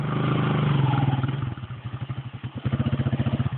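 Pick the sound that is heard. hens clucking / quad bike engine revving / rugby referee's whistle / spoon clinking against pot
quad bike engine revving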